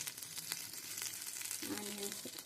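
Mint and coriander fry in hot oil for a South Indian coconut rice, stirred with a ladle, giving a steady close crackling sizzle with light scraping and a brief faint tonal hum near the end.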